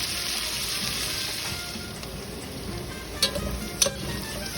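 Onions sizzle steadily in a hot pan for chicken soup, a dense, even frying hiss heard close up with a couple of brief clinks near the end and no talking.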